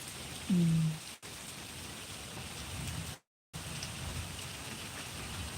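Heavy rain pours near a home in Kashmir, a steady dense hiss of falling water with a brief louder burst early on and a short dropout midway.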